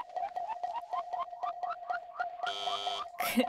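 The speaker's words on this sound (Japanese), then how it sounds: "何の意味もないけど目覚まし時計を触らせる" An alarm clock in a PS2 game rings with a rapid, repeating electronic chirp at a steady pitch, then switches to a harsher buzzing tone near the end, with some brief voice-like sounds mixed in.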